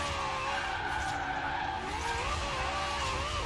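A Ford Mustang's engine in the racing game Forza Horizon 4 drones at high revs, a steady loud wail with shifting pitch and tyre skid noise, continuous and close, with no voices.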